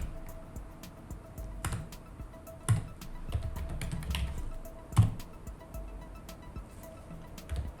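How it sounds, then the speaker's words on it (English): Keys tapped on a computer keyboard while a command is entered, a quiet run of light clicks with a few sharper taps standing out against a low background hum. "For this we type sudo apt upgrade"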